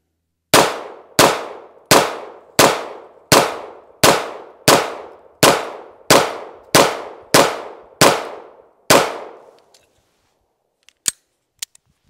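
Eleven quick pistol shots from a Wilson Combat EDC X9 fired at a target, sharp loud cracks in an even, rapid rhythm, each ringing briefly, followed by near silence with a couple of faint clicks.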